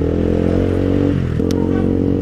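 A Honda CB150X motorcycle engine drones steadily and loudly up close while overtaking on the road. The engine note dips briefly, then climbs again, under constant wind rumble.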